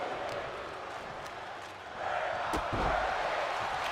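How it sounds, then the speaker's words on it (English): A wrestling arena crowd in WWE 2K25 chants together, a broad, steady roar of many voices that grows louder halfway through, with a couple of sharp slams cutting in. "The crowd chanting, "We're not worthy.""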